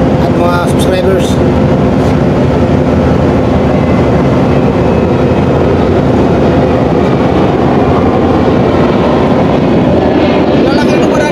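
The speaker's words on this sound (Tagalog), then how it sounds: "Sobrang laki ng aeroplano dito pa daan." A large airplane passes at a terminal at Tanjung Lansak in Malaysia, giving a loud, steady, close roar of engine noise that fills the whole stretch without letup.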